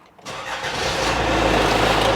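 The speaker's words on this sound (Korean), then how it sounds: "시동 걸어서 엔진 소리 한번 들어보도록 하겠습니다" A used car's engine cranks briefly and catches, then settles into a steady, loud idle close by with no talking.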